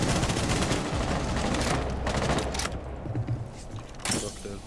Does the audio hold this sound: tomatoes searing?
no